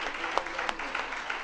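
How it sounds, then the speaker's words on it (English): Audience applause at a women's achievement event in Odisha, a continuous patter of clapping from a crowd that fills the moment steadily, with a few sharper claps standing out. "So let us all clap for all the women in this country who have moved forward"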